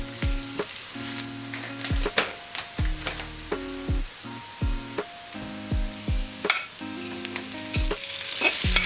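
Tofu added to shallot browning in hot oil, sizzling and frying in a pan with repeated stirring scrapes and clinks, close and lively with no talk.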